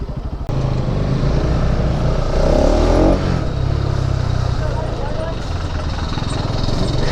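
A Bajaj Pulsar NS 200 motorcycle accelerates hard to overtake on a mountain road between Darjeeling and Siliguri. Its engine drone rises in pitch midway, then settles into a steady, loud run with some background noise.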